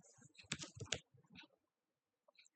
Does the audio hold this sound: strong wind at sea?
no